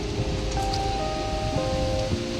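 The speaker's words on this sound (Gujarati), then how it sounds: "પાછળ વરસાદ ચાલુ થઈ ગયો હવે" Rain pours steadily during a thunderstorm, a dense broadband hiss filling the whole stretch with faint tonal hums from somewhere nearby, no talk heard.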